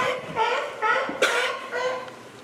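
Several short, raspy barking coughs in a row from a sea lion at Santa Cruz Wharf, fairly close, with brief pauses between them and no talking.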